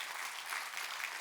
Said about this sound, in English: I got to give a round of applause to that.